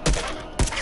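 Two loud, sharp Frontier rifle shots ring out in The Last of Us video game, about half a second apart, each with a short echoing tail.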